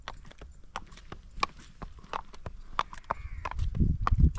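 Mare's hooves clip-clop in an uneven run of sharp knocks, fairly close, with a low rumble and faint voices toward the end.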